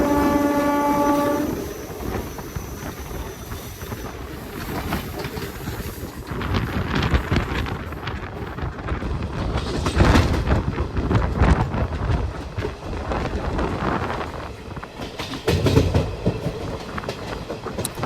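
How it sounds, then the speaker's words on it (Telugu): Dhone–Guntur passenger train hauled by a WAG9 electric locomotive opens with a loud multi-tone horn blast, then rolls past close by with rumbling, clattering wheels over rail joints and gusty wind buffeting throughout. "బాబా వచ్చిందయ్యా మన డోను గుంటూరు ప్యాసింజర్ ట్రైన్ అనమాట. ఇది WAG9 వేసుకొని వెళ్తున్నాడు"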